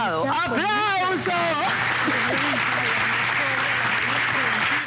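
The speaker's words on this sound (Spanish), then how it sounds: "¡Aplauso!" Studio audience applause on a Saturday-night television talk show, a broad steady wash of clapping that fills the clip after a host's voice at the start.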